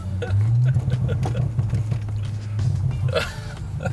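Audi S4 B9 fitted with a 034Motorsport downpipe, a loud low exhaust drone with crackling pops and bangs scattered across it, close by with a voice talking briefly.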